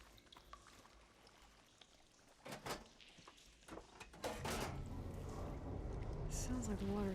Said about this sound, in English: Sounds like the water's switched.